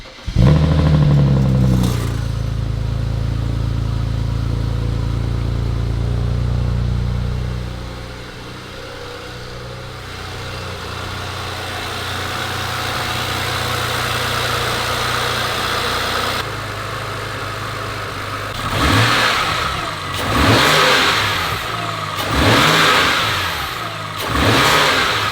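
A BMW E90 335i with a turbocharged six-cylinder cranks and catches, settles into a steady idle, then gives several sharp revs near the end, all close and loud.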